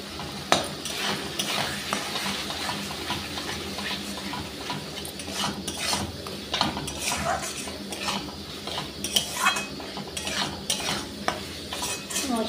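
Chilli powder and turmeric are stirred and fried in a pan for a fish curry with cauliflower and potato, giving a continuous sizzle under repeated scraping strokes of a spoon against the pot.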